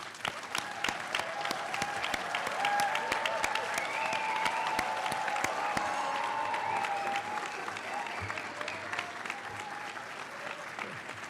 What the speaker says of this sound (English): And let's give them a last round of good applause.